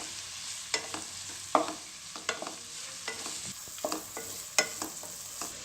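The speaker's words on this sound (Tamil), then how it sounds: "இதையும் சேர்த்துட்டு நல்லா வதக்கி விட்டுருங்க." Onion and tomato sautéing in a pan for mint pulao make a quiet background sizzle, punctuated by regular spatula scrapes and taps roughly every half second, close by with no voices.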